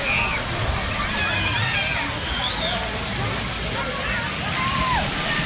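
Water pours and splashes steadily from a big splash bucket at the Carolina Harbor water park in Carowinds. The rush is loud and continuous, with faint crowd voices mixed in.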